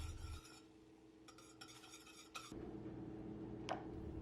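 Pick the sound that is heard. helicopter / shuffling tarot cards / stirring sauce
stirring sauce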